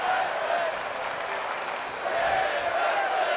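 Arena crowd noise in the wrestling video game WWE 2K24 forms a steady, loud roar of cheering and applause with a faint chant-like swell running through it.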